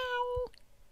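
A cat gives a single short, clear meow, close and fairly quiet, ending abruptly, followed by faint room noise.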